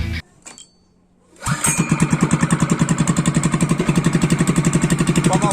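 A Loncin 7HP engine, freshly serviced, starts after a short attempt and a quiet pause: it catches with a loud burst, then settles into a steady, rapidly pulsing running chug, close and alone.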